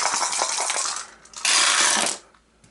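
Five dice rattle and tumble across a table during a tabletop wargame turn, a clattering burst, a short pause, then a louder final roll that settles quickly, with no voices.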